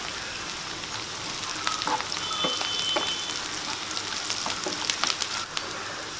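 Garlic, onion and curry leaves frying in oil for poondu kulambu, a garlic curry: a dense, even hiss of sizzling with occasional pops and light stirring scrapes, close and steady throughout without speech.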